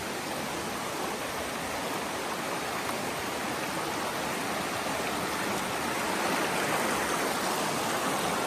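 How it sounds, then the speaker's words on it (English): High water in a brook rushes and cascades over rocks, a loud, continuous broadband roar from close by. "This is a cool brook."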